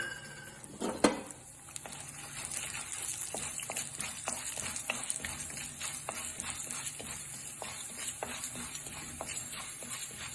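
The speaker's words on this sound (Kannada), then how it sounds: "ಎಣ್ಣೆ ಕಾದ್ಮೇಲೆ ಕಡಲೆಬೇಳೆ ಉದ್ದಿನಬೇಳೆ ಹಾಕ್ತಾ ಇದ್ದೀನಿ" Chana dal and urad dal tipped into hot oil over a medium flame: a sharp burst of sizzling at the start settles into a steady, close crackling fry with soft stirring clicks.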